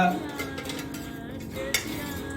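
An iron kadai clanks and scrapes on a stovetop as it is handled, with a light metallic clink near the end over a steady background hum.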